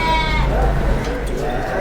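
A Sakız dairy sheep at a livestock market lets out a loud, close bleat that fills a brief moment, with the low rumble of the crowded market underneath.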